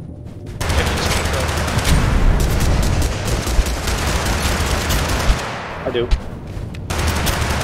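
The Rainman gun in the video game TABG firing rapid automatic bursts, loud and close, with gunfire almost continuous across the stretch and brief pauses near the end, while a voice speaks briefly.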